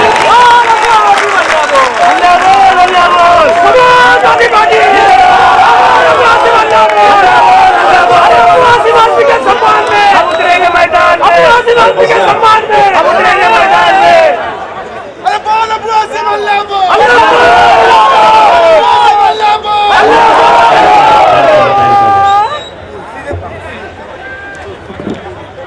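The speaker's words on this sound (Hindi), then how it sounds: "जोरदार तालियों से उनका इस्तकबाल कीजिए" Large crowd at a Samajwadi Party political rally in Shivaji Nagar applauding and cheering loudly in a long, sustained wave, with a shouting chatter of voices that dips briefly and then fades toward the end.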